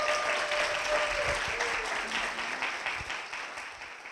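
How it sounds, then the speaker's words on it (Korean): A church congregation claps together in a sustained round of applause that gradually tapers off, with a brief tonal ring at the start. "박수 부탁드립니다."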